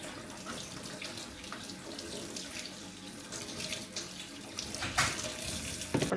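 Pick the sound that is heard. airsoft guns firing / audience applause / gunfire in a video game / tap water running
tap water running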